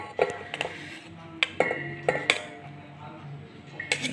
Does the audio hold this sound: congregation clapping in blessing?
no